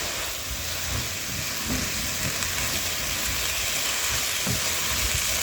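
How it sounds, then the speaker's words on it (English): Cabbage, onions and carrots sauté in a hot pan with a steady, close sizzle and hiss, broken by soft scraping thumps as the vegetables are stirred and turned. "Keep on stirring and turning so that each and every piece of the cabbage can cook evenly."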